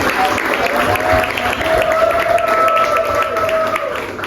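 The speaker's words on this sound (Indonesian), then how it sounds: "Tepuk tangan dong untuk" Audience applause at a book discussion event, a broad wash of clapping that runs continuously alongside a thin sustained tone.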